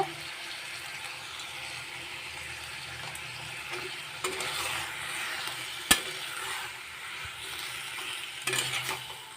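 Odia tomato khata cooks in a pan with salt added, a soft steady sizzle under occasional scrapes and clinks of a spoon stirring, fairly faint and close.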